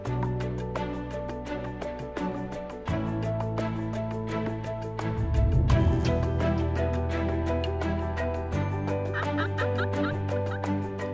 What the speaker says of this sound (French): lorsqu'ils entendent pour la première fois les gloussements de dindon au lever du jour